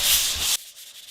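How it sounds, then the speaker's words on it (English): Coarse 80-grit sanding scrapes across a Boston Whaler boat hull in a short, steady burst that cuts off abruptly. "we get to sand the whole boat with 80 grit"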